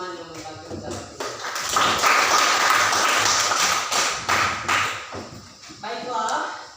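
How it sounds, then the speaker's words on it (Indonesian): A classroom of students claps for classmates who answered a question, uneven sharp claps building into a burst of applause with voices talking over it. "Mari kita berikan tepuk tangan kepada teman-teman yang membantu menjawab ini."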